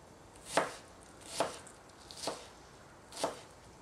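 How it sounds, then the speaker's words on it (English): A knife chops down onto a cutting board four times at an even, unhurried pace, each cut a crisp close knock with quiet between. "when you cut, it's less chopping you have to do"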